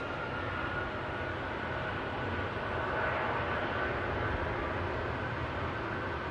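An Air Canada airliner in Star Alliance livery at London Heathrow, outbound to Toronto, gives off a steady, even jet roar that holds at the same level from start to end, with no voices.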